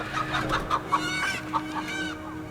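Chickens cluck repeatedly nearby, a string of short clipped calls rising and falling in quick succession.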